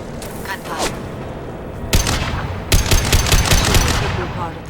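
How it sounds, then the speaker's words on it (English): Rapid bursts of gunfire in Mass Effect 2 Legendary Edition crack through a busy, noisy mix, with sharp loud shots clustering toward the middle and end and faint voices underneath. "Gunfire."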